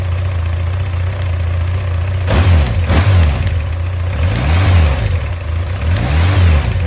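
Car engine with faulty rocker arms revving up in repeated bursts from a steady idle, loud and close, rising and falling with a rough mechanical clatter; no voices.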